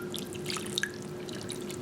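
Water is poured into sugar and corn syrup for homemade candy, giving soft trickling and a few small drips, quiet and brief.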